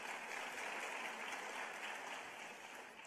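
Applause from an audience at a teacher of the year celebration, a dense steady patter of many hands clapping at once, fairly loud and sustained before easing slightly at the end, with no talk.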